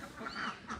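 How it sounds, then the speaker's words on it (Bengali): Ducks quacking as ducks and chickens head home at dusk, a few nasal calls in a short close burst, fairly faint against outdoor background. "সন্ধ্যা হয়ে গেছে, হাঁস মুরগি ঘরে যাইতেছে।"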